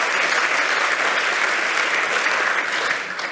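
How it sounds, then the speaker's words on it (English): Audience applause fills a conference hall, a steady dense wash of clapping from a large crowd that carries on throughout and tapers slightly at the end. "Another round of applause."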